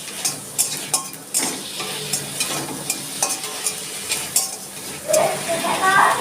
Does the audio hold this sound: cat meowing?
no